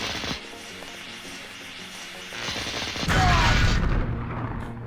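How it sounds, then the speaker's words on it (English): Vacuum bot exploding in the Deus Ex game: quiet mechanical hum and electrical crackle, then a sudden loud boom and burst of debris noise that swells and lingers before fading, with no talk. "if you step too much on the vacuum bot. It will suddenly explode under you"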